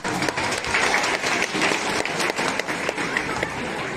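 A crowd at a Holi Milan gathering claps steadily, a dense, loud applause that runs throughout without pause.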